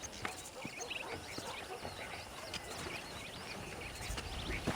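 Horses clip-clop at a ranch in Red Dead Redemption, with soft, irregular hoof taps and outdoor ambience with birdsong, quiet and somewhat distant.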